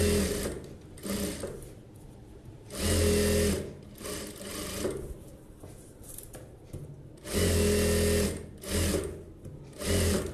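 A sewing machine stitches an Aari bridal blouse, running in loud, close bursts of rapid mechanical whirring separated by quieter pauses and shuffling of fabric, with no talking.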